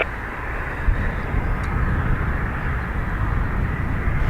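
An ATR turboprop airliner at Dublin Airport, heard as a steady, broad engine roar from a distance, constant and unbroken, with no voices over it.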